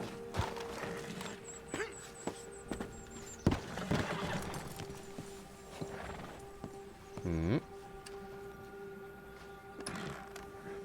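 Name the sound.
horse in Red Dead Redemption 2 video game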